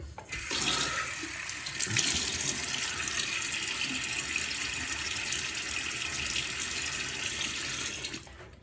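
Tap water runs steadily into a sink while a face is wetted before a shave, a loud, continuous close gush lasting several seconds before stopping abruptly, with no talking.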